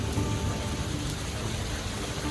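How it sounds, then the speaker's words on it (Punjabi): Heavy rain pours steadily, a dense continuous hiss of drops hitting surfaces close by, with no voices. "ਮੀਂਹ ਪੈਂਦੇ ਨੂੰ ਤੇ ਹਜੇ ਵੀ ਹਟਣ ਦਾ ਨਾਂ ਨਹੀਂ ਲੈ ਰਿਹਾ ਕਾਫੀ ਤੇਜ਼ ਆ"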